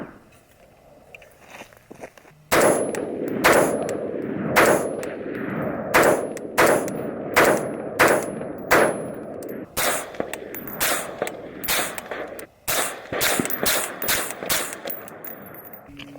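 Suppressed rifle shots from a 10.5-inch barrel fitted with a 6-inch suppressor, a long string of loud sharp cracks fired in quick bursts and irregular runs, close and dominating, after a quiet lead-in.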